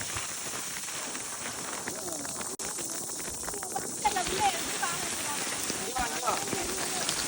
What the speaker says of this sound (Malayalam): നല്ല രീതിയിൽ മഴ പെയ്യാൻ തുടങ്ങി